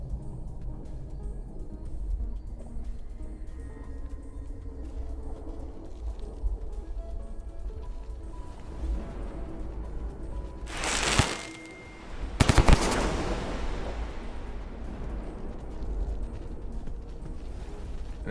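A firecracker bursts in the video game Rain World: a couple of sharp, crackling blasts about two-thirds of the way through, loud over a steady low rumble of game ambience.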